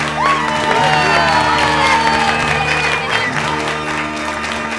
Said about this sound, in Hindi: मैं हार गई तो आप तालियां क्यों बजा रहे हैं?